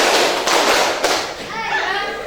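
High school students clap in unison during a concentration clapping game in class: two sharp, slightly ragged group claps about half a second apart, with room noise, then a voice speaking.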